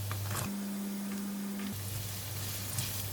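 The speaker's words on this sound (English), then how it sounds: "Just continue to fry the carrot for about 1 minute." Carrot frying with garlic in a pan for Thai pineapple fried rice: a steady, even sizzle close by with no talking and a faint electrical hum underneath.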